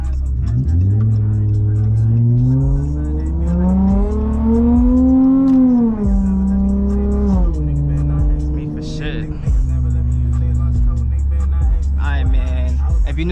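A Dodge Charger drives at night, its engine loud and close as it revs up smoothly, holds a rising drone, then eases back down and levels off in a steady hum.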